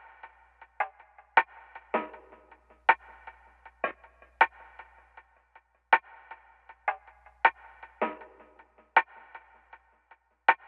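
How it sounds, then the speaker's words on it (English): Lo-fi snare samples from a sample kit hit alone in a loose, uneven pattern, each crack short, dry and crunchy, with about a dozen hits and quiet gaps between them. "I added these lo-fi snare thingies."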